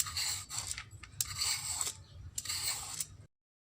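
Ridge gourd (turai) being peeled by hand, three short bursts of crisp scraping and rasping close up, separated by brief pauses.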